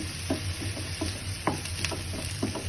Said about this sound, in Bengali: মাছ ভেজে রাখা তেলে পেঁয়াজ কুচি দিয়ে দিব